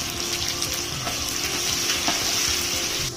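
Sliced onions sizzle steadily in a pot of hot oil spiced with black pepper, cooking for jeera rice in bulk, a loud, close, continuous frying hiss with soft stirring scrapes.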